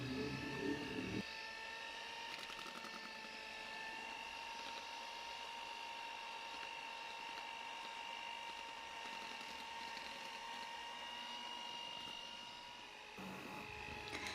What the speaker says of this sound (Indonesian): kita kocok juga jangan terlalu lama, hanya sampai telurnya itu tercampur rata dengan adonan